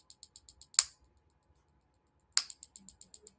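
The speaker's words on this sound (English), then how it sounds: "That's the really deep penetration and that very fast clicking." A Magnawave PEMF device gives off fast, evenly spaced sharp clicks, close and crisp, interrupted by two louder snapping pulses with a quiet gap between them.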